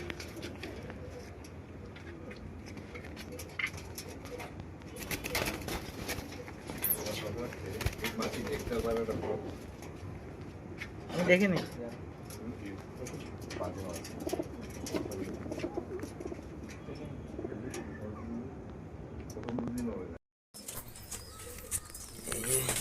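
Soft cooing comes from a flock of about fifteen pigeons kept for summer flying contests. It is faint and continuous, with people talking now and then and a brief dropout near the end.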